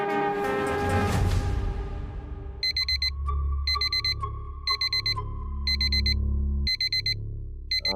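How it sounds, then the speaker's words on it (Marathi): An alarm clock beeps in a Marathi TV drama. After a brief rushing swell, it sounds as steady, rapid groups of high electronic beeps that repeat over a low hum and a faint sustained tone, with no voices. "अलार्म बंद करा रे."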